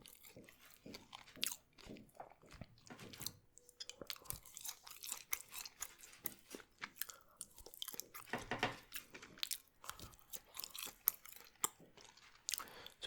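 Fries scraped from a food-court box being eaten close to the mic, with irregular crunchy chewing and biting sounds throughout and no talking.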